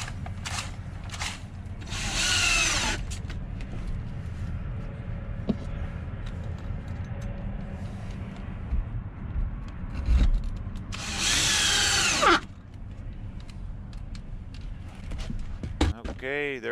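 A power drill pre-drills and drives screws into wood while a leg is attached to a DIY van bed frame: two whining bursts of a few seconds each, close by, with talking between them.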